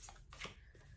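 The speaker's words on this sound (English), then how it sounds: "Doing 3 shuffles just to refresh" Tarot cards being shuffled on a small table, a few quick, soft riffling swishes close up and quiet, with no talking.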